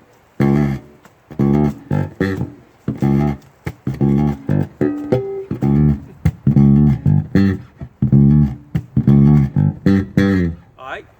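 A bass guitar plays a funky line through both pickups together, with punchy, percussive plucked notes and muted ghost notes in a busy rhythmic groove, loud and close.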